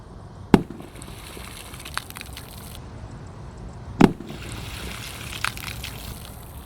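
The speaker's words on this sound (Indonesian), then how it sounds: "mercon Petir di dalam air ya." Two muffled, thudding bangs a few seconds apart from firecrackers exploding underwater, with sloshing water between them.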